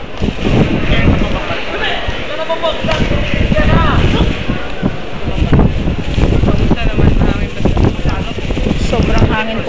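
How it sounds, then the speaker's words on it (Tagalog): Strong wind roars and buffets the microphone steadily throughout, with rumbling gusts and faint voices mixed into the blustery noise. "Sobrang hangin po sa labas."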